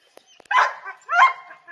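A male Labrador dog gives two short, sharp barks close by, separated by a brief pause, with a few faint clicks just before.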